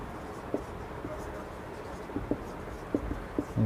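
Handwriting on paper while working a Class 10 math variation problem, pen strokes faint and scratchy with light taps at irregular intervals.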